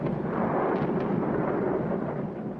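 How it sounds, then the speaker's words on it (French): Deep rumbling roar of huge bombs striking a munitions depot during a Second World War air raid on the Tirpitz, a sustained heavy low boom from a distance, no voices. "3 énormes bombes frappent une réserve de munitions."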